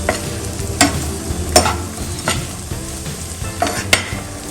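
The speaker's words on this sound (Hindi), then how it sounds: "थोड़ा हम चला देते हैं इसको।" Butter chicken ingredients frying in a pan and stirred, with a continuous sizzle broken by several sharp scraping and clacking strokes of a spoon against the pan at irregular intervals.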